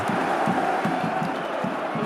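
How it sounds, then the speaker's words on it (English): Dense stadium-style crowd roaring steadily, like a soccer crowd, with low rhythmic drum thumps pounding under the constant wash of noise. "It sounds like a soccer crowd. They're like banging on drums"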